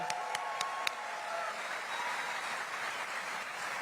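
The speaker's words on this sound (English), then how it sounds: "Round of applause for that." Audience at a live political rally in Brooklyn, New York applauding, with a few sharp claps at the start and then steady, dense clapping that fills the room.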